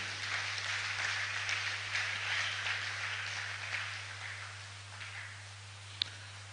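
Audience applause welcoming panelists at a live-streamed agricultural gathering, a steady wash of clapping that slowly fades, heard over a constant electrical hum, with one sharp click near the end.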